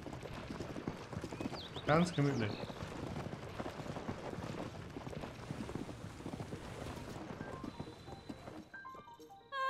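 In Zelda: Tears of the Kingdom, a horse's hooves clip-clop at a steady walking rhythm under game music, with a brief louder flourish early on. A voice speaks over it.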